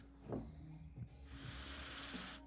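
A person takes one long, close sniff of an orange-tinted beer, right up against the microphone, after a few brief soft noises.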